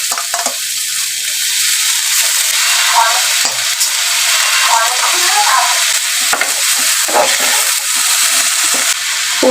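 Potato and eggplant, with cauliflower florets to follow, fry and sizzle in a pan at a home kitchen stove, a steady close hiss broken by scraping stirs, with no talk.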